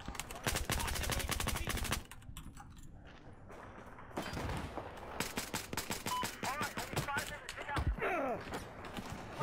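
Rapid P226 pistol shots in Battlefield 4 team deathmatch on Dragon Pass, a dense burst of sharp, loud reports followed by more scattered shots, clatter and distant gunfire over several seconds.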